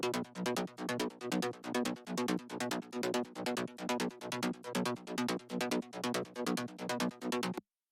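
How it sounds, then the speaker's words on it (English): A Zebra synthesizer layer pulses in fast, evenly spaced bright stabs, a driving rhythmic pattern with a full, buzzy tone that runs steadily and close until it stops abruptly near the end. "And then we've also got the Zebra."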